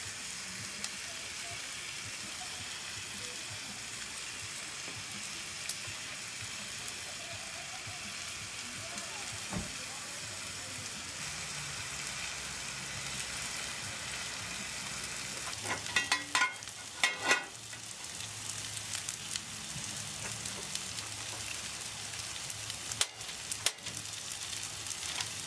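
Steady sizzling of steak frying on a hot Blackstone 14-inch camp griddle outdoors runs throughout, with a few clanks and scrapes of utensils near the end.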